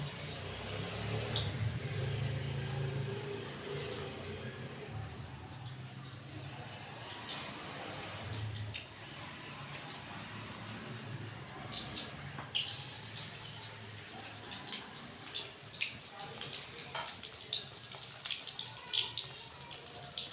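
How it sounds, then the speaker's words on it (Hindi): Chicken pakoras sizzling in hot oil in a kadhai wok, a steady broad hiss with crackling pops throughout, fairly quiet and continuous with no talk over it. "इधर हमने तेल कढ़ाई के अंदर डाल दिया, तेल गर्म हो गया। अब इस पे हम डाल देंगे चिकन"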